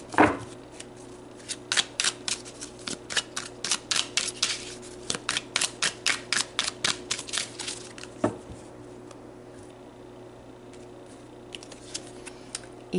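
Heart and soul oracle cards being shuffled and pulled, a rapid string of crisp riffling snaps and slaps close by, then a quieter stretch of soft card handling, with no talk.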